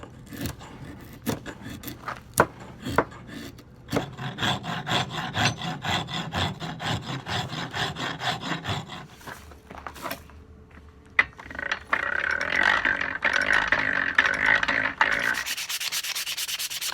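Steel blade shaving and a wood rasp working down a wooden knife handle, with repeated scraping strokes close up, a few sharp knocks, then steadier, brighter rasping and sanding toward the end.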